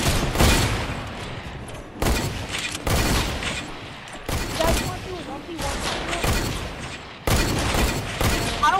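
Hunting rifle gunfire in a video game, with loud, booming shots repeated in bursts every second or two, each trailing into a dense, reverberant roar.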